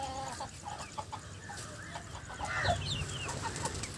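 Chickens and roosters cluck steadily as they gather for feed mixed with an Ayurvedic remedy, a busy, mid-distance flock chatter with occasional sharper calls.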